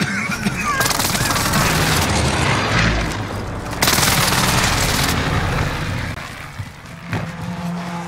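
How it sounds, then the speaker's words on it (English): Airstrike explosions in the Call of Duty Rebirth game mode, a series of heavy booming blasts and rumbling bursts mixed with gunfire, loud and close, with brief lulls between the impacts. "Be advised, friendly position airstrike inbound."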